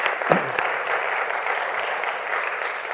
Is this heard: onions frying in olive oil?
no